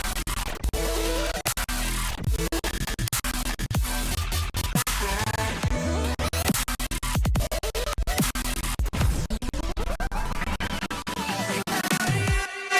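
Synth chords morph into a heavy bass in an emotional bass music production, a dense, glitchy, constantly shifting wall of sound with sharp chopped stutters and sweeping tones, loud and busy for the whole stretch, with nobody talking.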